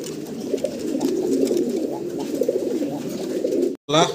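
Black Mundian pigeons coo steadily and close up at a pigeon farm, soft rolling calls repeating over the whole stretch, with a brief dropout and a sharper sound at the very end.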